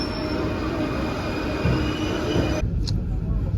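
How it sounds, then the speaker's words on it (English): Paris metro train pulling in, loud rumbling wheels with a high screech that cuts off abruptly near the end, close by on the platform. "Here's our train, here's our metro."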